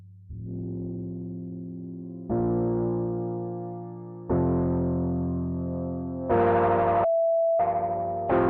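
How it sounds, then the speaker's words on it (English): Distorted synth tones swell in stepped bursts, each louder, ending with a sharp whistling resonant filter squeal and buzzy echoes from the Baby Audio BA-1 FX Strip on iOS. "we've got our cutoff and we've got our resonance, and we're already getting some squeals in there"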